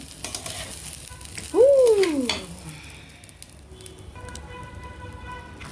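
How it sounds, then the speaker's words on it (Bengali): Rice fries in a pot for pilaf with a soft, steady sizzle and a few stirring scrapes. A brief rising-and-falling tone cuts in early, and no one speaks. "এখন এটাকে সুন্দর করে ভেজে নেব"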